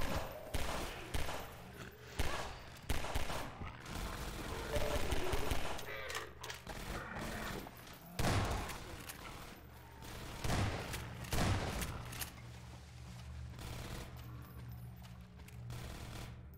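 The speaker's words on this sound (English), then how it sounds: "What are you shooting at?" Bursts of rapid automatic gunfire in the video game Half-Life 2: Episode One, repeated volleys and booming shots with short pauses between them, fairly loud and dense.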